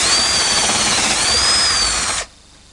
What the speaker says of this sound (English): First thing I need to do is drill a hole in the back of the cabinet.